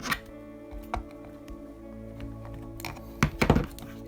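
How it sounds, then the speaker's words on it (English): Rubber tyre being twisted and pulled onto a rear wheel during a Tamiya Hornet model build, heard as close, quiet creaks and soft squeaks with a few sharper thunks near the end. "You can hear the rubber moving."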